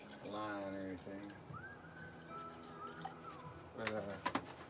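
Steam distilled water pours into a container for a homemade ionic silver brewer, a steady trickle and splash running under a soft voice, with bird-like chirps in the background.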